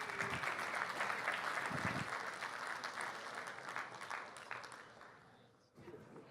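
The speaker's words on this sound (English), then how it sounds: "give Mr. Shawn Owen a big round of applause as he walks up here" A conference audience in Dallas applauds a speaker walking up to the stage, a full round of clapping that gradually thins and fades near the end.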